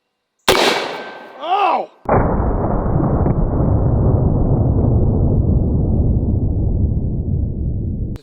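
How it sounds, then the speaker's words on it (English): A 4-gauge candy cannon fires gummy bears with one loud, sharp blast, preceded by a brief exclamation, and the heavy boom rolls on as a long, slowly fading roar of echo. "So now let's see what happens when we hit him with some gummy bears out of our cannon."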